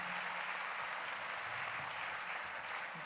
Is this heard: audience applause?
yes